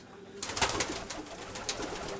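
Pigeons coo softly in a loft, low throaty calls repeating over a faint, steady background, close by and with no talking.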